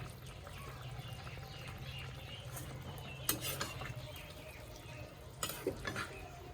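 Vegetable curry of kohlrabi, soybean, spinach and coriander leaves stirred in a pan, a low steady sizzle with a few scraping spoon clinks near the end, close and fairly quiet.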